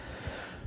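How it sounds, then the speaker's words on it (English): A brief, soft yawn from a teacher late in the evening during an algebra lesson on radicals, heard as a couple of low, breathy puffs of air with no talk over it. "a short yawn break, as I always do."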